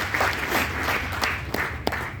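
Applause from a seminar audience in a Hyderabad hall, a brief moderate burst of many hands clapping with a few sharper individual claps, heard without clear speech.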